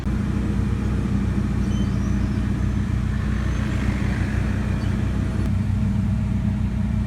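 A car with an overheating engine idles at the roadside while traffic rolls past, a steady low rumble of engines holding loud and constant throughout with a faint wash of passing vehicles on top.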